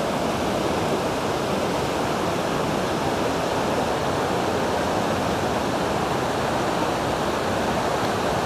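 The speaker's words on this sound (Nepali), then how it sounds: "खोला पनि हिँडेको छ तातो पानी पनि हिँडेको छ चिसो पानी पनि हिँडेको छ" The Trishuli river in Rasuwa, Nepal, rushes in a steady, dense, broadband roar of flowing water, close and constant throughout without any voices.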